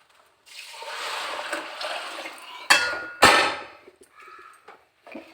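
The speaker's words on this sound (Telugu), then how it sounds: "దీనికి 1/2 వాటర్ పోసుకుందామండి" Water poured into a vessel of rice, a steady rushing pour lasting a few seconds, broken by two sharp metallic knocks against the pot before it trails off into small clinks.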